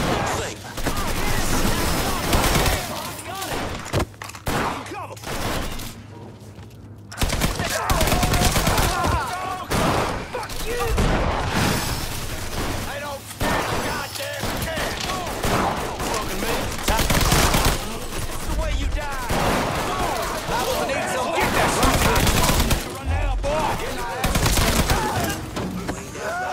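A dense, continuous barrage of gunfire in a Mafia 3 shootout, loud and chaotic, with overlapping shots and impacts and shouted voices mixed in throughout.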